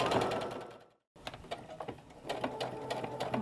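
A sewing machine runs short bursts reinforcing stitches at the sides of a fat quarter skirt, with rapid mechanical clatter, a brief pause, then steady close stitching.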